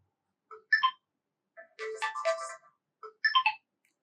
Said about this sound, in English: You can either select a ringtone from the classic options